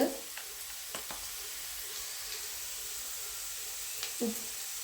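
Garlic cloves and curry leaves fry in hot oil with spice powders, giving a steady quiet sizzle with a few soft stirring clicks and a spoon tap near the end.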